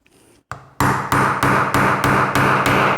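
American A30 padlock struck repeatedly with a hammer, about seven loud close metallic blows in a steady rhythm after a brief quiet start.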